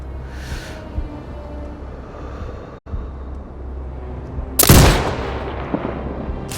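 A sniper rifle shot in Sniper Ghost Warrior Contracts 2 cracks out sharply and loudly over a low ambient rumble, then trails off in a decaying echo.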